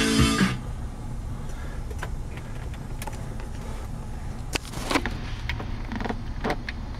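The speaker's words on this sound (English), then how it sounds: "Power windows all work except for the driver's side door." Power windows run in a used car whose driver's-side window does not work: a steady, low electric motor hum continues for several seconds, with scattered clicks and a few thuds, close by and without talk.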